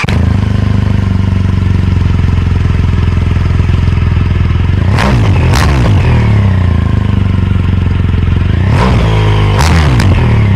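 A motorcycle engine idles with a steady, close, loud chugging after a fill-up, then revs in two sharp bursts as it sets out on the road toward Beeston Castle.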